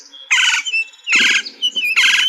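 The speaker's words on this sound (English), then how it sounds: "That laughing, rattling call is the Gila." Gila woodpecker giving its laughing, rattling call in Arizona desert habitat: three loud, close bursts of harsh squawking rattles, each about a quarter second long, separated by thinner squeaky notes.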